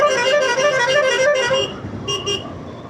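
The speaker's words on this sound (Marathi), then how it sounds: "कसला हॉर्न केला येडेने." A vehicle horn honks loudly and continuously in morning traffic during a bike ride in Pune, then gives two shorter toots, with road noise underneath.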